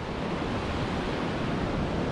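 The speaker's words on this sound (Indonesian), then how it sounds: "Terus di bawah juga ada air terjun" Constant broadband roar of a tiered waterfall below a suspension bridge, dense and steady throughout with no voices.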